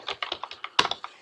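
Rapid keystrokes clatter on a computer keyboard, about a dozen crisp clicks in an irregular rhythm with one harder tap, close and alone.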